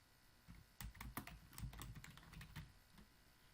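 Fingers type steadily on a computer keyboard, a quick run of close, soft key clicks lasting a couple of seconds, with no one speaking.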